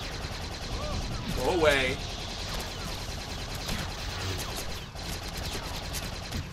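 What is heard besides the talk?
Gatling gun firing full auto in Star Wars The Force Unleashed video game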